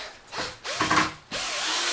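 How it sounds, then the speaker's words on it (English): An electric drill fitted with a new motor, wired backwards, whirs up in short bursts, revving, dropping, then spinning steadily, close and loud with no talk. "I put a new motor in this drill and I wired it up back to front."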